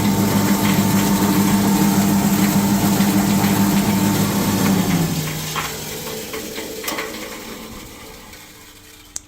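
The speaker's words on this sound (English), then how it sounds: "So as you see, that's a substantial electric motor." A large, substantial electric motor runs with a loud, steady hum and whine that holds for about five seconds, then drops away sharply and winds down into quieter machinery noise.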